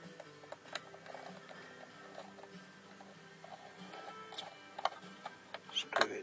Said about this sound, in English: Grab the handy dandy little screwdriver.